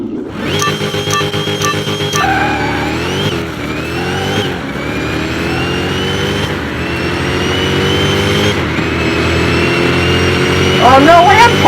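A Hellhawk and a Koenigsegg revving hard in a mile drag race, engines droning loud and continuous with rising pitch sweeps between gear shifts, a high whine climbing near the end.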